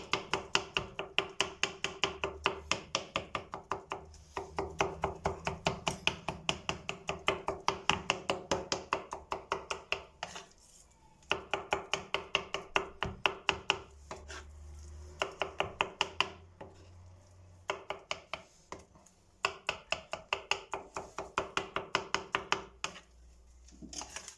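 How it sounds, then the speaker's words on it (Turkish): A knife chops eggplant finely on a cutting board in quick, even bursts of sharp taps, broken by short pauses between runs, close and clear with no talk. "Temizlediğimiz patlıcanları tahtamızın üzerine alıyoruz. ve bıçakla ince ince kıyıyoruz."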